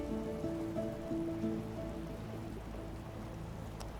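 Steady rain pattering down in the video game Divinity: Original Sin II, black rain falling on a temple, a constant dense hiss that runs unbroken and fairly loud, with no voices over it.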